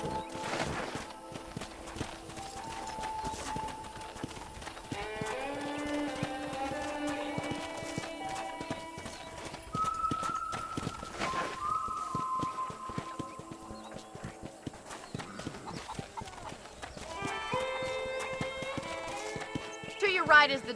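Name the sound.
horse hooves while riding, from Red Dead Redemption 2 video game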